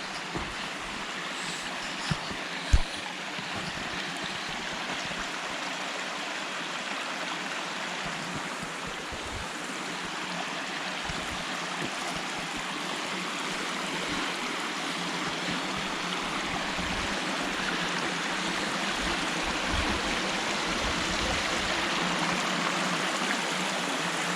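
A small waterfall and stream at Bingham Hollow on Mulberry Mountain, Arkansas, flowing at a moderate level, give a steady, full rushing wash throughout, with a couple of brief knocks near the start.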